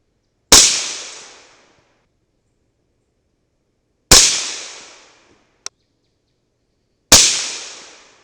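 Three sharp, loud gunshots from a CMMG 300 BLK rifle with an 8-inch barrel crack out a few seconds apart outdoors, each trailing off in a short decay, with a faint metallic click between the second and third.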